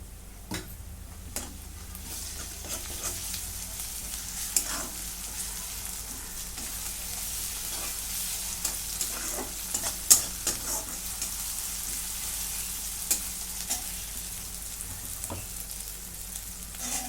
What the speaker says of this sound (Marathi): कांदा चांगला लालसर भाजून घेतलाय त्यात थोडंसं आलू लसूणची पेस्ट टाकून घेते